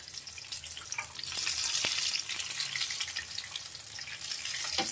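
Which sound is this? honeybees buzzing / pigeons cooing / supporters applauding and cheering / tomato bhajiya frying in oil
tomato bhajiya frying in oil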